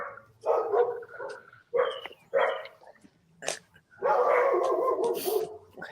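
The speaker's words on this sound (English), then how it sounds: "now the dog's barking" A dog barks in several separate bursts, loud and close, with short yips and whimper-like tails between the barks and a longer run of barking near the end.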